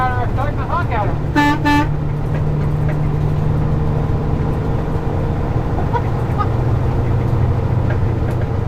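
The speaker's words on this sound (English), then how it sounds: "I'm starting to honk at him." A car horn gives a short burst of honks in heavy city traffic, with engine rumble underneath. Someone talks over the start.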